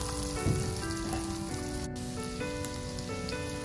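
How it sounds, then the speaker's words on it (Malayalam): Five or six garlic cloves sauté in butter in a pan for garlic butter shrimp, giving a continuous crackling sizzle like light rain. Steady background music with sustained tones plays over it. "ഗാർലിക് ഇടാം ഒരു അഞ്ചാറ് വെളുത്തുള്ളിയുണ്ട് അപ്പം അതിനെ നമുക്ക് ജസ്റ്റ് നന്നായിട്ടൊന്ന് വഴറ്റിയെടുക്കാം"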